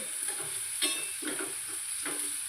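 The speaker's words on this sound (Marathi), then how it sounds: "कांदा थोडासा आता परतून घ्यायचा आहे" Chopped onion sautés in a pan, a steady low sizzle broken by a few scraping stirs, close and fairly loud, with no voices.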